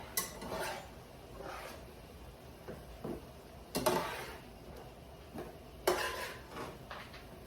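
Metal utensils scrape and clank against a pan as cooked shrimp for garlic shrimp scampi is lifted out, a few sharp knocks and scrapes in irregular bursts, close and fairly quiet.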